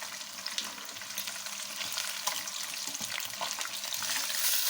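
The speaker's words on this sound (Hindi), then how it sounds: "चिकन हमारा ऑलरेडी पका हुआ है, हमने सिर्फ इसका कलर चेंज करना है थोड़ा सा फ्राई करके" Pre-cooked chicken browning in a pan, a steady crackling sizzle that grows slightly louder toward the end, close and without speech.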